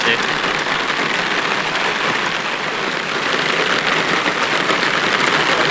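Heavy rain pours down on a village in a dense, unbroken hiss that holds steady and loud throughout, with no distinct voices.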